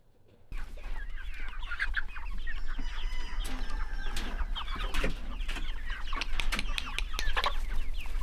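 Meat chickens cluck steadily on open pasture, a busy flock of overlapping calls and short squawks close by, with wind rumble underneath and no talking.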